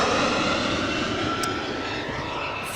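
An EasyJet Airbus A319 arrives at Amsterdam Schiphol, its jet engines giving a steady, fairly loud roar with a constant whine throughout.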